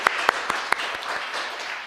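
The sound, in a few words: congregation clapping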